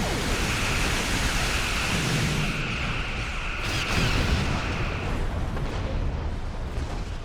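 Starship cannons fire in the space combat game Star Trek Online, a loud, dense, continuous roar of blasts and rumbling explosions with no pauses.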